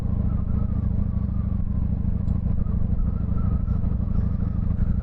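A Honda VT1100 Shadow Ace motorcycle engine idles steadily and loudly up close, a continuous deep throbbing rumble with no talk over it.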